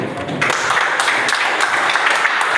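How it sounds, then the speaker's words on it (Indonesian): A classroom of students applauds two groups, a steady wash of many hands clapping close by for a couple of seconds, fairly loud and continuous. "Tepuk tangan buat M dan G"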